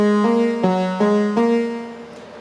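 Synthesizer patch playing a run of sustained tonal notes with rich harmonics, changing pitch roughly every half second in a steady rhythm, close and clear with no talking.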